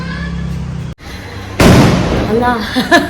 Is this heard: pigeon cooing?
no